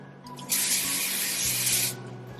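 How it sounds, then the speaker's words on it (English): A single hissing burst of aerosol cooking spray onto a cookie sheet lasting about a second and a half, close and clear against a quiet background. "I'm gonna spray my cookie sheet with some cooking spray"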